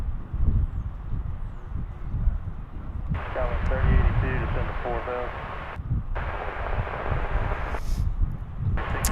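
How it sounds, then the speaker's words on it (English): A Boeing 737-800 jet departs DFW airport, its broad roar rising under a live commentator's steady talk, the jet noise spreading and swelling through much of the stretch. "as we get a 737-800 departure"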